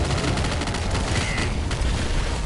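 An energy rifle fires in the top-down shooter Nuclear Throne, a loud continuous barrage of rapid bursts and explosions packed tightly together with no pauses.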